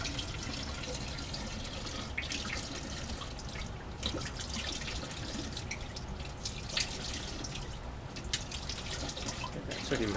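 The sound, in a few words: rinsing lab glassware with water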